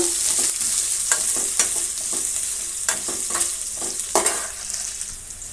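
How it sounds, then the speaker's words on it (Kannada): Finely chopped onions sizzle steadily in a hot pan for a soya gravy, with a spoon stirring and scraping at irregular intervals, close and fairly loud, no voices. "ಈಗ ಅದರ ಜೊತೆಗೆ ಈರುಳ್ಳಿ ಒಂದು ಎರಡು ಸಣ್ಣ ಸಣ್ಣದಾಗಿ ಕಟ್ ಮಾಡಿರೋ ಮಾಡಿರೋದನ್ನು ಇದ್ದೀನಿ ಫ್ರೈ ಆಗಬೇಕು"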